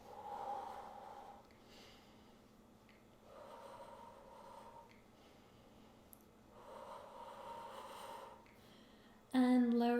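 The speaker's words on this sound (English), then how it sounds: "3 more deep breaths here." Slow, deep breathing during an at-home Pilates workout, with three or four long soft breath cycles at a steady pace, close and quiet, ending with a brief louder sound.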